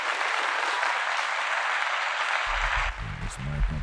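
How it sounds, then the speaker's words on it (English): A crowd breaks into a round of applause, steady dense clapping that carries on for a few seconds before a voice comes in over the fading claps. "Round of applause for that."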